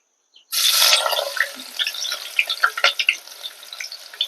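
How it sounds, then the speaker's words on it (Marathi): Onion drops into hot oil on a wood-fired stove with a sudden loud sizzle that settles into crackling, spitting bubbles, close by. "आता तेल गरम झालेलं आहे आपण कांदा टाकून घेऊया"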